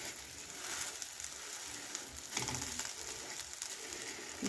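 A vegetable egg omelette frying in a pan while being pressed down: a steady, quiet sizzle that runs throughout, with a slight swell in crackle midway and no voices.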